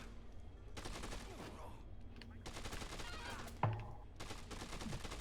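Gunfire from a shootout against mercenaries in the video game Dead Rising 2, with bursts of shots in several clusters and one sharper, louder report partway through, all under a steady game background.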